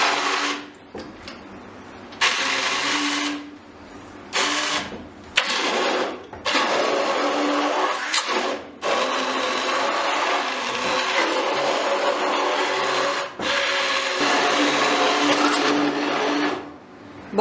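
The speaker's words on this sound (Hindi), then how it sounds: "अब मैं इसके अंदर ये हैंड ब्लेंडर चला रही हूँ।" A hand blender grinds cooked lentils, wheat and shredded meat for haleem, its motor whirring loud and close in repeated long bursts separated by brief pauses.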